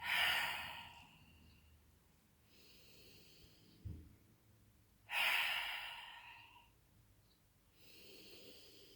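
Forceful open-mouth exhales during a yoga breathing exercise with the tongue stuck out, two strong breathy bursts near the start and middle with softer breaths between, close and alone without talk.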